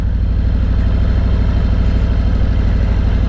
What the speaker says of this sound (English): I can rev the motor like this without picking up speed.